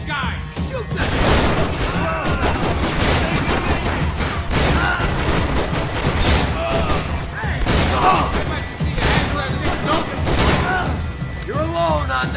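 Gunfire in the video game Max Payne 3 rattles in dense, overlapping volleys with booming impacts, loud and steady throughout, while voices talk and shout over the shooting.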